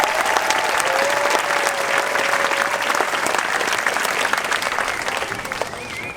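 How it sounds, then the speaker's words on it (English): An audience at an elementary school May Day program gives a sustained round of applause, loud and dense from start to finish, with a faint tone and a bit of crowd noise underneath. "Can we give them a round of applause"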